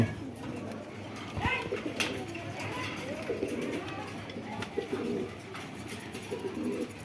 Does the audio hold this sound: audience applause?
no